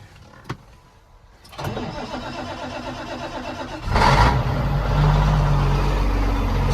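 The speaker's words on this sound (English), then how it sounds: "She fires right up though. That's a good starting tractor." A tractor engine cold-starts on a chilly day of around 40 degrees: a brief crank, then it catches and idles with a rough, steady chug, and the revs pick up into a louder, fuller roar near the end.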